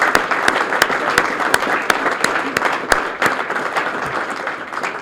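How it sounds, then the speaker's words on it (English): Audience applause for volunteers at a Toys for Tots holiday kickoff event, a steady wash of many hands clapping with a few sharp nearby claps standing out, lasting throughout. "If we could, please give them a round of applause."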